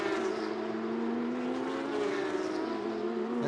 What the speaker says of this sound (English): Never easy to restart a hot racing engine.